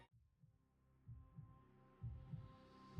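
Heartbeat sound effect under a horror narration about a haunted woods cabin, a faint, low, steady throbbing pulse with a soft hum, heard alone without voices.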